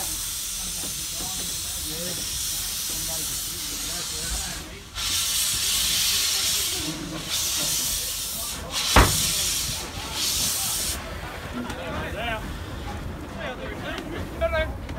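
A steam locomotive releases loud broadband hissing in long bursts of steam, with a sharp clank partway through and voices murmuring faintly underneath.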